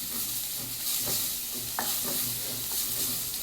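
Dried red chillies and green chillies fry in oil in an iron pan, a steady close hiss with scattered crackles and light stirring scrapes, no talk.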